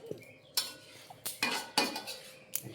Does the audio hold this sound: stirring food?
yes